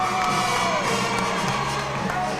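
A big basketball crowd cheers and shouts in a college gym late in a close game, a loud, sustained roar with whoops rising and falling throughout.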